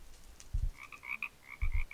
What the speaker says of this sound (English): Do I hear frogs?